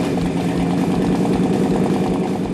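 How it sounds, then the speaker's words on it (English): A 440 V8 car engine stroked to 500 cubic inches, making about 600 horsepower, runs loud and close with a steady rumbling idle and rhythmic low pulsing throughout. "This engine makes about 600 horsepower and it makes as much torque, so that makes a great street motor."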